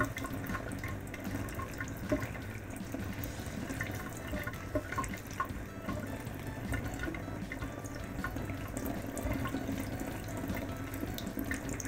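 Tap water rushes steadily from a faucet into a bunch of water balloons, a continuous loud, close splashing hiss that runs unbroken for the whole stretch.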